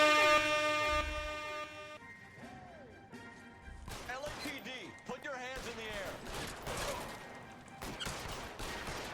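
A loud, sustained air horn blasts during a police chase in the video game L.A. Noire, followed by crashes, impacts and someone talking over the game sounds.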